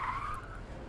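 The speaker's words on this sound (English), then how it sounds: "The car lurches forward with squealing tires." Car tires squeal sharply as a car lurches forward in the Butterfly Soup 2 video game, a short, loud screech that fades quickly.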